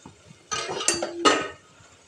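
A metal frying pan (bandi) clanks onto a stove in a home kitchen while bitter gourd fry is being made, giving a few bright knocks and clinks close by.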